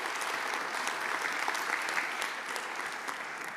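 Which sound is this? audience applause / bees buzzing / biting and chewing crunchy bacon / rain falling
audience applause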